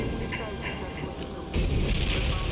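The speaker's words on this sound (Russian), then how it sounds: "Все, это такой взрыв." A booming explosion erupts partway through, a loud rumbling blast over ongoing game noise and scattered gunfire-like thuds, in the video game Infamous Second Son.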